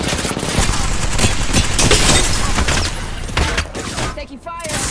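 Sustained gunfire in Apex Legends, a dense fusillade of rapid automatic shots with booming low end, loud and close, with in-game character voices calling out between bursts near the end.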